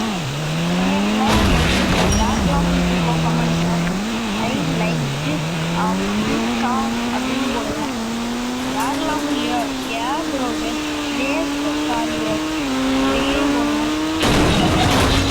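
Engine of a golden car in a video game rising and falling in pitch as it drives and accelerates, loud and continuous, with tyre noise and a person talking over it.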